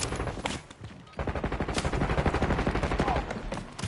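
Rapid automatic gunfire in the Warzone video game, bursts of rattling shots firing in a quick steady rhythm after a brief pause, loud and close over game ambience.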